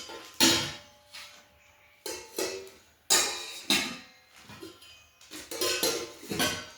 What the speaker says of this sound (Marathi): तीन पातेल्याचा सेट आहे. हे पण पातेले इंडक्शन शेगडीवर पण बसतात आणि गॅसवर पण चालते.